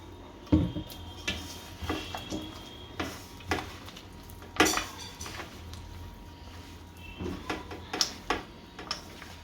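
Irregular clicks and light scraping knocks in a bowl, spaced a second or so apart, as peanuts are stirred by hand into thick gram-flour batter nearby.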